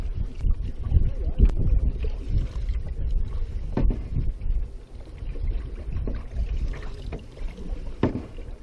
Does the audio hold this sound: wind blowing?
yes